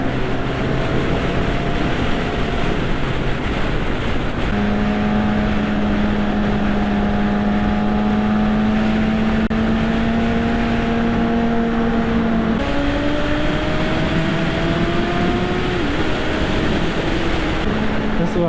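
Aprilia RSV4, BMW S1000RR and Honda CBR1000RR sport motorcycles ride through downtown Minneapolis, a steady loud engine drone with rising and shifting tones, heavy wind rush throughout.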